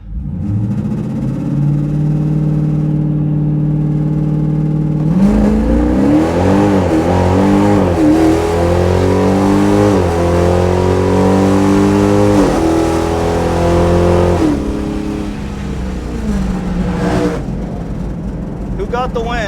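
A bracket-class drag racing car at a season-opener meet roars loud and close, its engine revving and climbing through rising gear pulls down the strip before easing off near the end.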